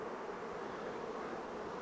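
Honey bees buzz in front of their hives at an apiary, a steady close swarm-like drone with no pauses and no voices.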